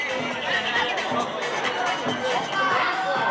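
Supporters of People Power Party primary candidates cheer as the candidates arrive at party headquarters: a dense crowd clamour of shouting and chatter, close and steady throughout, with individual voices mixed in.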